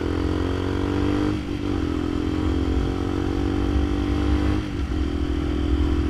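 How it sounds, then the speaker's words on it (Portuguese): A motorcycle engine runs at a fast, raised idle, a loud, close and steady drone with brief dips in pitch before it settles back to the same high hum. "Essa moto tá acelerada agora."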